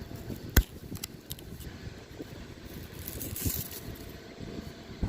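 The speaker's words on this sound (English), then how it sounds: "It's really windy right now." Wind blows through an outdoor rose garden, low rumbling gusts buffeting the microphone with a few sharper knocks, fairly quiet and with no one speaking.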